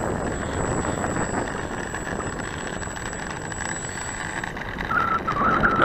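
Gusty wind buffets the microphone at an RC plane flying field, a steady broadband rumble that swells louder near the end, with a faint high whine running underneath.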